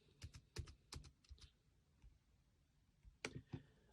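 Keys tapped on a computer keyboard while entering a job search, in short bursts of clicks with a pause in the middle, then a few more strokes, fairly close and quiet.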